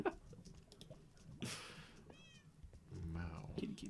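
Cat meowing in the Minecraft hardcore-mode game, a short rising meow standing out midway through the clip, with game noises and a player talking around it.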